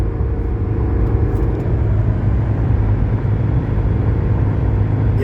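A 1981 Mercedes 300SD cruising on a highway gives a steady low drone of engine and road noise inside the cabin, constant and even with no voices.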